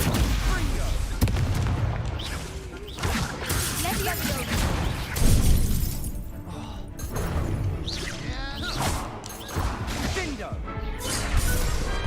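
Explosive blasts and crashing impacts from a Confringo fire spell in Hogwarts Legacy, loud booms repeating through a dueling fight, mixed with game voices and effects.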